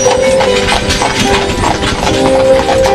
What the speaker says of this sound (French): Oh, ils bougent toujours ces chevaux là.